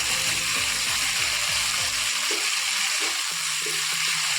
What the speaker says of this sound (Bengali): দেখো ভালো করে নাড়াচাড়া করে কষিয়ে নেব।